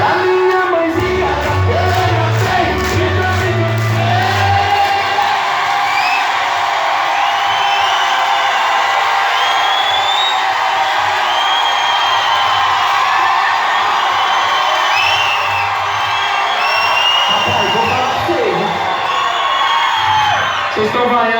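A large crowd at a live show boos and whoops loudly in a sustained, dense roar of many voices, with high shouts and yells rising above it.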